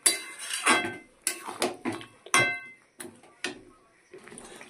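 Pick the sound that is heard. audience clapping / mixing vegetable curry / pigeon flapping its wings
mixing vegetable curry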